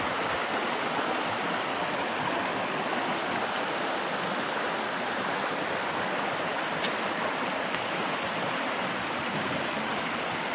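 A strong stream current rushes and churns steadily at close range, a dense, continuous roar of flowing water filling the whole stretch with no pauses.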